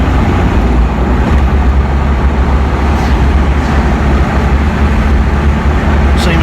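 A Land Rover Discovery is driven on a test after rear brake work, with a loud, steady roar of road and engine noise filling the cabin and no distinct braking sound standing out.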